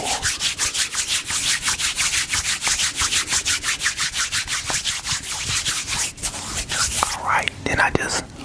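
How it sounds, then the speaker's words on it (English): Hair grease rubbed between palms in a barbershop makes a fast rhythmic swishing, close and continuous, with faint whispering near the end. "Then I just rub it in, rub it in, rub it in. Get it all lathered up."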